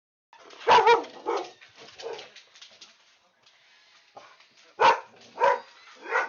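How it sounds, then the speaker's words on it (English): A dog barks indoors in a few loud, close bursts separated by pauses, with softer whimpering yelps between them. "dumbass dog started barking"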